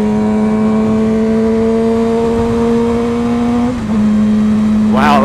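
Motorcycle engine droning steadily as the bike rides along, holding a tone that dips briefly during a gear shift and then climbs again, loud and close with no talk over it.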